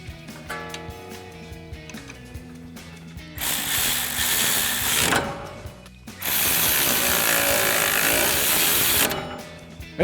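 Ratchet wrench clicking rapidly while a brake caliper on a 2005-2010 Mustang is reattached with its original hardware, two sustained bursts of dense ratcheting separated by a pause, close and loud.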